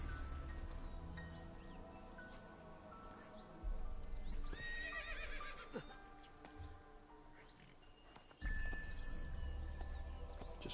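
Horse in Assassin's Creed II game audio: hooves clip-clop steadily throughout, with a loud whinny near the middle and another near the end, over a busy game ambience.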